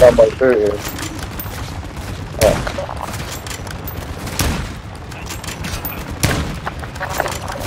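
Close bursts of automatic gunfire and single shots crack out in Call of Duty Modern Warfare II DMZ, in several sharp volleys a few seconds apart. Players talk between the shots.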